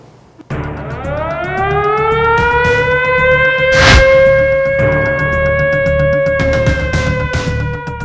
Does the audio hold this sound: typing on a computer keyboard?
no